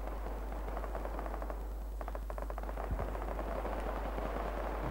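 Artillery gun fires in the WWII-era combat game Iron Front, a sharp report with a low rumbling tail heard amid continuous crackling gunfire and battle noise.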